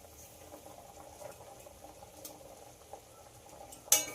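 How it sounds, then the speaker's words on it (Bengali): Vegetarian egg curry broth bubbling in a pan, a soft steady simmer of small pops running throughout, with a louder splash near the end. "ঝোলটাকে একটু ফুটতে দেব। ঝোলটা ফুটে গেছে"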